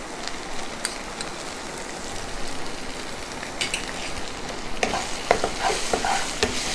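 Green chili, chili powder and turmeric being stirred into a simmering vegetable kurma, with a soft, even sizzle close by and scattered spoon scrapes and clinks that grow more frequent toward the end.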